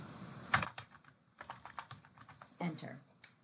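Computer keyboard keys tapped in quick, uneven bursts while renaming a spreadsheet worksheet, with a few louder mouse or key clicks, all faint and close.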